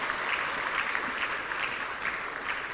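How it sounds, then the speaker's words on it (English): An audience at the National Economic Dialogue 2025 in Ghana claps in steady, moderately distant applause that holds evenly for a few seconds, with no voices over it. "Another round of applause, ladies and gentlemen."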